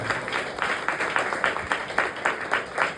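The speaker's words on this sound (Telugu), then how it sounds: "చప్పట్లు కూడా దేవుని స్తోత్రం." A church congregation applauding during a sermon, a fairly faint, steady run of rhythmic clapping heard from a distance.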